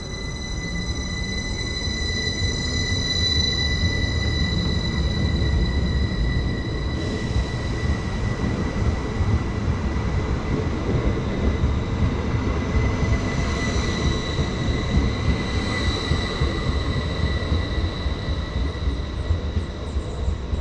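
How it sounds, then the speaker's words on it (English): A Northern Class 331 electric multiple unit pulls in after a run from Ilkley, with steady loud rumbling of wheels on rail and a faint high whine, sustained throughout without speech. "And here comes our train just now, having just completed a service from Ilkley"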